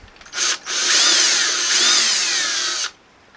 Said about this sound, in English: So I will drill a hole for that.